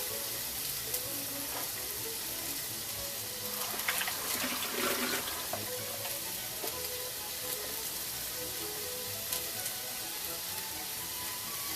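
Radish greens fry in grease in a pan, a steady close sizzle and crackle that swells briefly with a burst of spitting partway through, then settles back to a soft continuous hiss.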